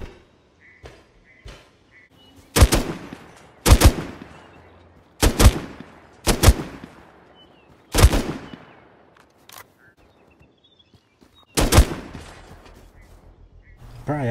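Gunshots fired in a survival video game, loud single cracks spread over about fourteen seconds, several coming in close pairs, with quiet stretches between them and no talking.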